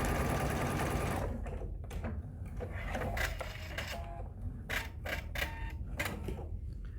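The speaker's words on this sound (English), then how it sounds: "going to sew a 1/4 inch seam." A sewing machine stitches a quarter-inch seam for a quilted star table runner, running at a loud steady hum for about a second, then continuing in shorter irregular bursts of rapid needle clatter, close and without speech.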